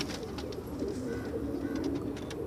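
Pigeons coo steadily and close at a crowded pigeon market in Multan, the low throaty calls overlapping in a continuous murmur with faint background bustle.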